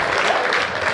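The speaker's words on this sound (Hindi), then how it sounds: "ताली बजाओ" A crowd of listeners at a lively poetry and comedy gathering claps steadily and densely, a continuous wash of applause filling the whole moment without spoken words.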